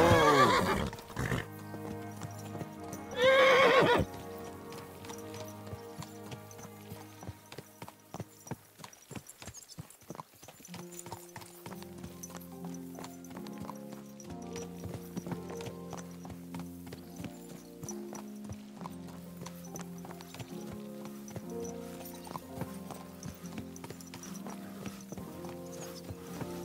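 Horse hooves clip-clop at a walking pace while riding in the video game Kingdom Come: Deliverance II. A loud neigh opens the clip, then a steady hoof rhythm continues under music.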